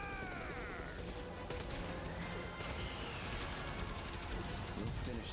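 Volley of gunfire in a game trailer, a dense continuous crackle of shots and crashes filling the whole stretch with music and effects layered over it.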